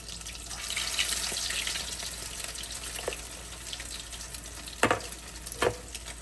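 Salmon croquettes frying in hot grease, a soft continuous sizzle and crackle with a few sharper clinks and taps near the end, fairly quiet and with no voices.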